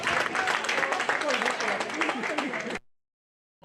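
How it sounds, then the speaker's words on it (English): A crowd claps for a woman at the SWAN @ 60 celebration, loud dense applause for nearly three seconds that cuts off abruptly, followed by near silence. "Please clap for the lady."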